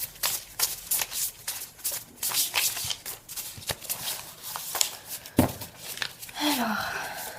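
A deck of mirror cards being shuffled by hand, a run of crisp riffling and flicking bursts close up, irregular and fairly loud, with a few sharper snaps toward the end.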